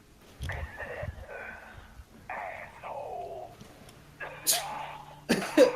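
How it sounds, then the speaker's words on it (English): A voice speaks in short bursts, then a couple of rough, harsh smoker's coughs break out near the end, close and fairly loud. "Why are you coughing like that?"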